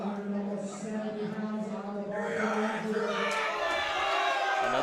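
Crowd cheering and shouting in a hall at a high school powerlifting nationals meet, rising behind a lifter's attempt; a continuous, fairly loud roar that swells toward the end, with voices mixed in.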